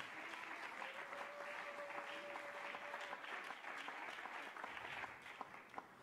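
A church congregation claps loudly and steadily throughout, thick, dense applause filling the room, with a faint voice underneath.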